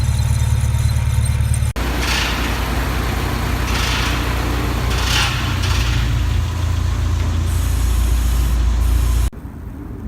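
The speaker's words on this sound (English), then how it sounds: "this differential sounds like it's making a scraping noise" Scraping, grinding drone from a Subaru Impreza's rear differential, heard inside the moving car under steady, loud road and engine noise for about eight seconds, with a faint squeal now and then and no talking.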